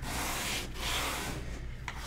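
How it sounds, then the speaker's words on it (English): Hand sanding of a wooden lazy susan being stripped and refinished gives soft, close, steady rubbing strokes, faint overall, with a brief pause partway through. "I turn it around when I'm sanding"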